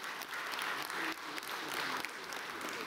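Audience applause at a meeting of freedom defenders in Lithuania, a steady wash of many hands clapping throughout, fairly distant and even, with no speech over it.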